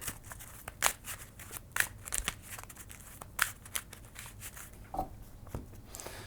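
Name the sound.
shuffling game cards back into the deck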